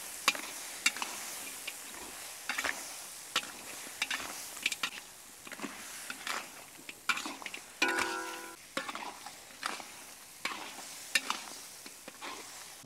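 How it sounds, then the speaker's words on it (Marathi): Crab pieces fry and get stirred in masala in a village kitchen, a steady sizzle broken by repeated scraping strokes of a spatula against the pan, close and continuous with no talking. "खेकडी आता आपण मसाल्यामध्ये व्यवस्थित परतून घेऊ"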